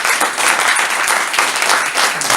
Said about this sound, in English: let's give them a round of applause for staying